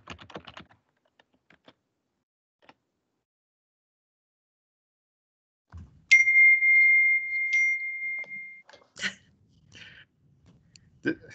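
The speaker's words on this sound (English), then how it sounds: "I got a little Keno going on here on my phone." Keno game on a phone chimes out a jackpot, a long sustained electronic tone with brief blips and jingles following, clear and close after a stretch of near silence with faint typing-like clicks at the start.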